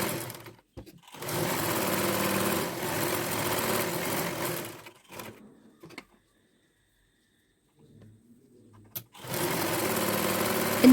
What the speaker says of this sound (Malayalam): ഇതുപോലെ ചെയ്ത് കഴിഞ്ഞാൽ ഇനി നമുക്ക് സ്റ്റിച്ച് ചെയ്തെടുക്കാം.